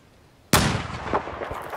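A single sharp gunshot cracks out in Battlefield 4 gameplay, followed by a decaying echo and a couple of fainter thumps.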